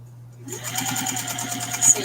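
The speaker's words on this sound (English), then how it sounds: "I'm sewing binding right now" A sewing machine stitches binding onto a quilt after a brief quiet start, its rapid even whirr running steadily and close.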